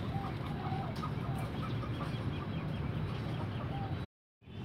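Chickens on a vegetable farm cluck continuously at close range, mixing short clucks and faint higher calls over a busy rustling background, then cut to a brief silence before the sound returns.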